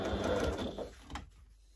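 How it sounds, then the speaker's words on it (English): Sewing machine stitching bias binding onto the rear edge of an indoor slipper upper, a steady close mechanical whir that runs for about a second before slowing and stopping. "fold your bias binding in half, match it to the edge, and stitch at 1/4 inch from the edge."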